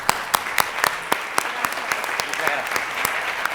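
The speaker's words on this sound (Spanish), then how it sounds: "Démosle un aplauso." An audience at a Worktech Mexico business talk breaks into loud, steady applause, with a dense wash of clapping and distinct sharp claps nearby throughout.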